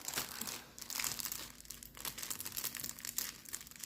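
Crinkly plastic packaging being opened around a coupon of 40 by 50 cm cross-stitch fabric, close and fairly quiet, with irregular rustling and crackling bursts throughout and no voices.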